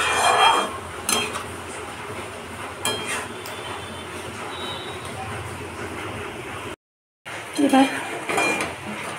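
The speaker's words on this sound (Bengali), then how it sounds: "শুধু নেড়েই যেতে হবে জলটা শুকিয়ে আসা পর্যন্ত" Lote fish is stirred in a pan to dry it out, giving continuous scraping and clinking of a utensil against metal close by, with someone talking over it and one brief cut.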